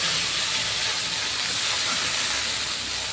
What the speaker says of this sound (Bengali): এবার মশলাটাকে সুন্দর করে কষে নেব।